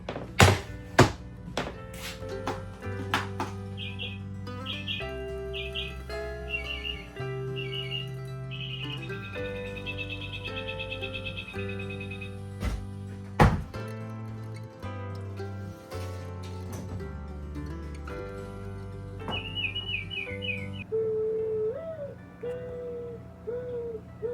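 A battery-powered bird clock in a remote cabin plays recorded birdsong, short chirps and whistled calls over a steady musical backing, with a sharp thunk partway through.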